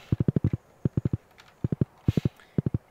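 Horse hooves in Stardew Valley clip-clop in quick clusters of three to five crisp, close taps, separated by short pauses.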